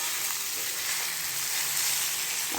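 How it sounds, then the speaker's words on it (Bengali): Rice and elephant apple fry in a pan with a steady, loud hissing sizzle and faint scraping as they are stirred, close up with no talking. "চালতাগুলো দিয়ে আবার একটু নাড়াচাড়া করে নেব"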